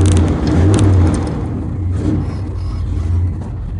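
A 1985 Chevrolet K20 Suburban fires up after sitting a couple of days and settles into a low, rumbling idle, loud and close, with a brief rise in revs at the start.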